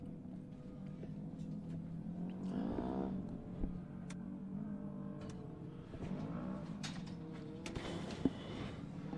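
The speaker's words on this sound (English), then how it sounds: "I hear motors rumbling off in the distance" Off-road race car engines rumble faintly in the distance at a short course race, rising and falling as vehicles rev, a low steady drone with occasional swells.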